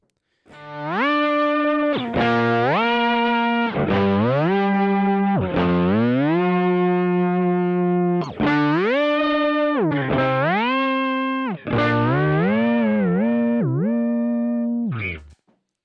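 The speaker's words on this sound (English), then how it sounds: "The Whammy is set up to be an octave up." Electric guitar played through a Whammy pedal set an octave up, bright sustained notes with bends and slides in a continuous phrase, loud and close.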